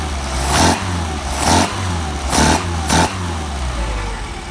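An engine with Solex carburetors and a freshly adjusted throttle linkage is revved four times in short, evenly spaced bursts over a steady idle, loud and close, with no one speaking.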